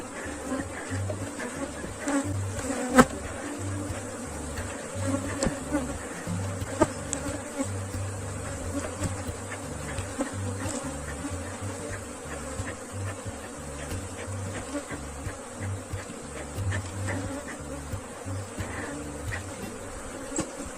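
A swarm of Africanized honey bees buzzes steadily around an open hive, a dense, continuous drone with faint clicks and frame handling mixed in, close and unbroken for about twenty seconds.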